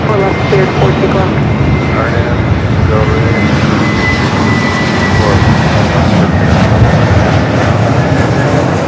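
A Southwest jet airliner takes off from runway 24 left at Los Angeles International Airport, its engines roaring loud and steady, with airport radio chatter and voices over the top.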